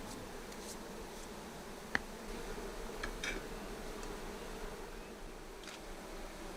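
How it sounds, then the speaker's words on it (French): Honey bees hum steadily at an open hive while a brush sweeps them off the comb, a faint continuous buzz with occasional soft ticks and rustles. "J'ai une brosse pour enlever les abeilles qui sont dessus."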